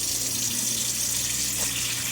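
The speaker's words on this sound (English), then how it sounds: "I'm going to go ahead and get some water in that bowl." Tap water running steadily into an empty mixing bowl, a constant close rushing stream with no voices over it.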